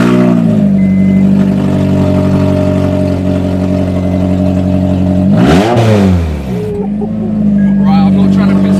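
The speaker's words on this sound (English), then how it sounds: "it'd be very rude of me not to start the car without an exhaust on" A Honda Civic FN2 Type R engine with no exhaust fitted idles loud and raw, then blips sharply up through a rev and drops back to a rumbling idle, very close and harsh.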